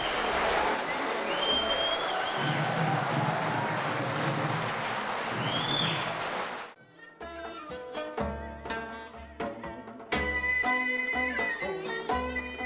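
Warm, sustained applause from an audience for the Little Angels children's dance ensemble performing in Mongolia. The clapping stays full and even for several seconds, then cuts off and gives way to music.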